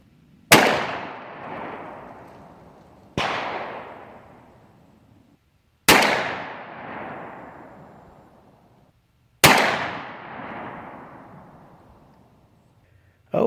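Four loud, sharp revolver shots from a S&W 627 V Comp and a Ruger Super GP100, evenly spaced about three seconds apart, each with a long decaying echo at an outdoor range.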